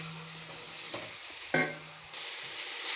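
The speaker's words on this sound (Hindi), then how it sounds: "चिकन को हमने ना अच्छी तरह फ्राई कर लेना है।" Chicken frying in a pan after garlic and ginger, a soft continuous sizzle with a couple of sharper stirring scrapes, fairly quiet and close, no talking.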